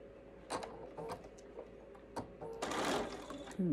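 A sewing machine runs short bursts of locking stitches on a fabric face mask, stopping and starting in quick uneven pulses, quiet and close up with no talk over it.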